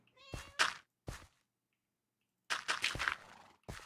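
Cat meows played as a surprise redeem sound on a livestream. A few short, close meows come first, then a brief silence, then a longer run of clear meows.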